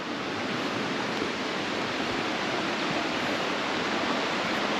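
A waterfall beside a forest trekking trail at Los Dinamos in Mexico roars as a loud, steady, unbroken rush of falling water, close by and alone with no voices.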